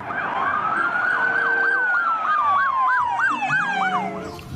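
Toy police car siren wailing close and loud, a rising-falling sweep followed by a rapid repeating yelp, with faint clattering underneath.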